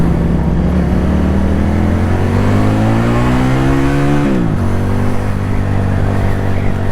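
QJMotor SRK 400 motorcycle engine revving while riding, a loud, steady drone that climbs in pitch for several seconds, drops sharply on a shift, then settles into an even, close throttle note.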